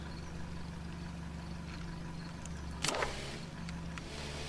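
A vehicle driving in the video game Farm Together 2, heard as a steady low engine drone running throughout with a brief clatter partway through, fairly close and even in level.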